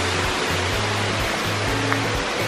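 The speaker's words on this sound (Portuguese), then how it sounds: "Essa é a Cachoeira do Sol." Cachoeira do Sol, a strong waterfall near Bonito, Brazil, roars as a steady, dense wash of rushing water, close and continuous with a low hum underneath.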